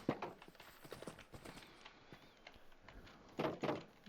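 Horse hooves clip-clop in an irregular walking rhythm while a rider heads home in Minecraft, soft repeated thuds over a busy game background with occasional louder steps near the end.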